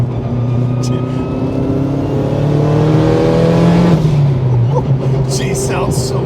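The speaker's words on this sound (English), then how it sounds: "we're slipping every gear, like tires are spinning every gear" A turbocharged Acura RSX engine with straight-cut gears roars and climbs in pitch as it accelerates hard with tires spinning, with a gear change midway, loud and close, with a voice briefly heard.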